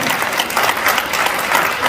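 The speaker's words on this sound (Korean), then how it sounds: "큰 박수로 하기 바랍니다" At a traditional culture awards ceremony, an audience bursts into close, vigorous applause for a foundation board director, a continuous crackling roar of many hands with no break.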